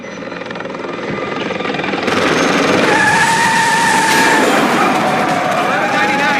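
Helicopter gunships in the World in Conflict video game thunder overhead with loud, rapid rotor chop that swells and stays close, a whining engine tone rising through the middle.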